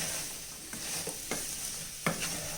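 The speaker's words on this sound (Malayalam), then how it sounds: "ഇത് നല്ലോണം ഒന്ന് ഇളക്കി മിക്സ് ചെയ്യാം." Spoon stirring asafoetida into fish pickle masala frying in a pan, several soft scraping strokes and clinks spaced over a low sizzle, close and quiet with no talking.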